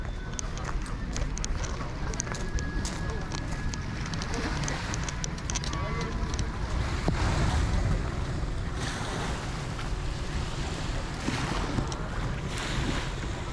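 At Maya Port in Daanbantayan, North Cebu, waves wash steadily against many moored boats, with wind buffeting the microphone, scattered knocks, and voices talking intermittently over the continuous surf.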